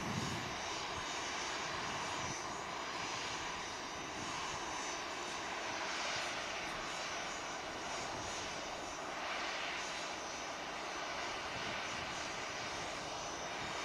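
Jet aircraft at Manchester Airport, a steady loud engine roar that holds for the whole stretch with slow swells in intensity, no voices over it.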